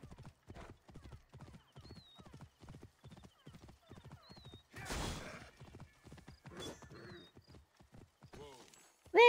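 Horse hooves clip-clop in a steady, rhythmic gallop in Assassin's Creed Origins, loud and close throughout, with a brief whinny, a burst of rushing noise midway and faint game effects around them.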